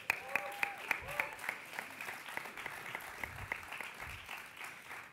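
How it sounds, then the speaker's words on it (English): Audience at a university mayoral forum applauding, a brief burst of clapping with a few sharp claps standing out, moderately loud and fading over a few seconds. "Give yourselves a round of applause."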